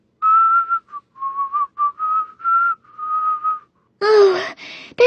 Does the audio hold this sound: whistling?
yes